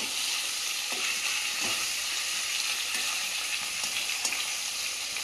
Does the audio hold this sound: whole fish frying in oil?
yes